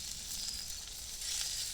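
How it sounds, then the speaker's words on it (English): A skinless grouper fillet sizzles in a hot pan, a soft, steady hissing crackle heard close up and alone. "Listen to that sizzle."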